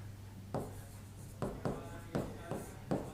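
Pen writing out a grammar definition on paper, with short scratchy strokes in separate bursts about every half second, close and alone against a steady low hum.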